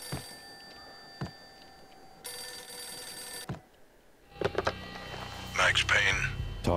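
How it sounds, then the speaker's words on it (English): A telephone rings in the Max Payne video game, a bright electronic trill held for about a second amid faint ticks, followed by busier game sounds and voice-like noises. "The phone's gonna go."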